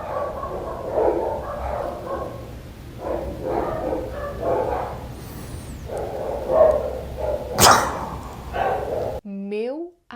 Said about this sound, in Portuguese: o cachorro começa a latir, latir, latir, latir